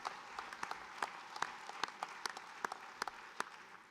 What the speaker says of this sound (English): You can give all of them a round of applause.